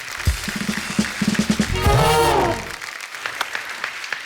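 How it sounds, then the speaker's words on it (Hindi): A television comedy show's studio audience applauds as actress Kriti Sanon is welcomed on stage, with quick close claps followed by a sweeping musical sting over the clapping before it thins out. "जोरदार तालियां कृति के लिए और हमारे साथी कलाकारों के लिए।"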